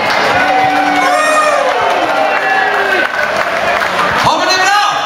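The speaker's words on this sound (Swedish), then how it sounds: "tack till dig för klappa också" Dense applause and cheering from a concert crowd at the Havneblues festival in Drøbak, 2013: a loud, steady roar of clapping and shouts with a few whistles, lasting throughout.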